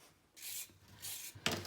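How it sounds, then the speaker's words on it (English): A potato peeler scraping the skin off a large carrot, heard as three rasping strokes, the last one the loudest. "I'm now going to peel the carrot"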